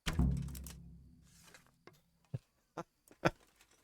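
Arrow loosed from a bow striking a tree in a video game: a soft thunk at the start fading out, then several short sharp knocks spaced apart, close and fairly quiet.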